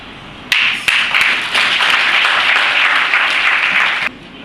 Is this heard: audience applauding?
yes